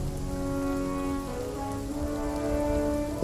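Steady rain falls in the fantasy strategy video game Spellforce 3: Reforced, a constant hiss of raindrops on surfaces with faint tonal game music underneath, no voices.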